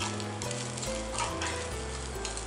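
Takoyaki batter and octopus cook on a takoyaki griddle over low heat, with some of the balls scorching, producing a loud, steady sizzle close by, broken by small scraping turns and hums, with no talking.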